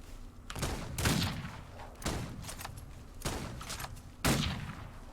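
Rifle gunshots in the Old West video game Outlaws of the Old West, four loud booming reports spaced about a second apart, each with a short echoing tail over low ambient game noise.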